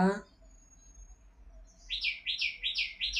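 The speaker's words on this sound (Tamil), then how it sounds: "அங்கே பாருங்க குருவி பையன் கத்துறா" A sparrow chirps in a quick run of five or six bright, evenly spaced tweets, close and clear, following a brief burst of voice.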